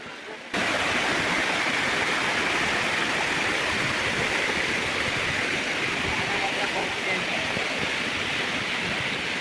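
Water rushing steadily over the top of Dharampur waterfall, a loud, continuous broadband roar close by with no pauses after a brief quiet start.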